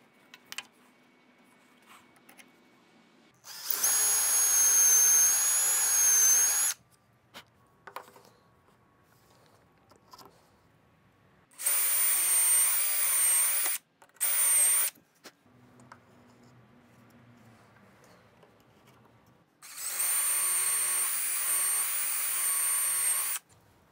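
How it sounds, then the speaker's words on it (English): A power drill with a stop collar on its bit bores holes into the edge of a wooden board for a doweling jig, in three loud whining bursts of a few seconds each, separated by quiet pauses. "So I'm gonna drill out a few holes in the edge of this board using a stop collar"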